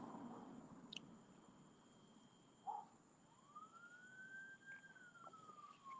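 A faint, distant ambulance siren wails in a single long tone that rises and then slowly falls, over quiet background noise.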